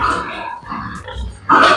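Pigs on a pig farm grunt and squeal in short bursts close by, rough low grunts giving way to a louder high squeal near the end.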